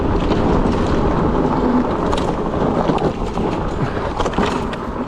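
Himiway C5 Ultra motorcycle-style ebike riding fast downhill at about 23 mph, steady loud wind roar buffeting the microphone throughout, with no talking.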